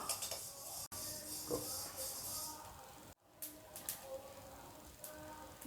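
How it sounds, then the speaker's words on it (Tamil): Sesame seeds crackle and pop as they roast in a hot kadai, a faint sizzling hiss with scattered light clicks and a few clinks of a utensil against the pan. "பாருங்கள் எள்ளு பொரியுது"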